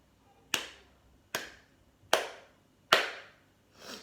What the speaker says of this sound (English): you are going to clap out the syllables on your own